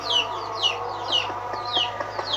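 A brooding hen sitting on eggs for about 22 days clucks in a steady run of short, evenly spaced calls, close and clear over a faint steady hum.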